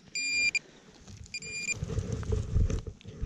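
A metal detector sounds two short, bright electronic beeps at a brickworks exploration site, followed by low rustling and scraping noise near the ground.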